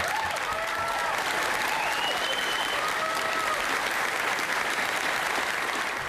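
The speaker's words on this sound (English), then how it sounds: "A round of applause erupted" A crowd at a Salem city meeting breaks into applause after an announcement about withdrawing an Oregon Supreme Court appeal over firefighter benefits, dense, loud, continuous clapping with a few voices and whoops rising over it.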